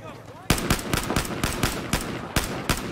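Sniper rifle fire in the Battlefield 4 video game: loud, sharp shots with reverberant tails crack out roughly every quarter to half second after a quiet lead-in, over a busy battlefield bed.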